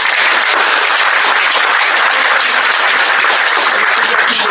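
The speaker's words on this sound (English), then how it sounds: "Please give a warm round of applause." Warm applause from a catering event audience fills the space, steady dense clapping from many hands at close range with no talk over it.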